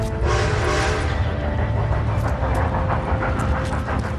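An approaching train in a video game rumbles with a loud, steady roar and a hissing, steam-like wash that holds for the full four seconds, with no talking.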